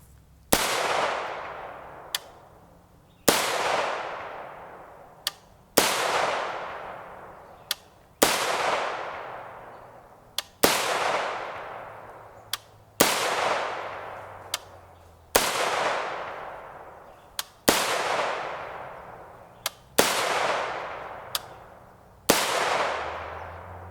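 Ten sharp rifle shots of .300 AAC Blackout 145gr FMJ steel-case ammunition, fired at a slow, even pace of roughly one every two and a half seconds, each crack followed by a decaying echo and a faint metallic clink.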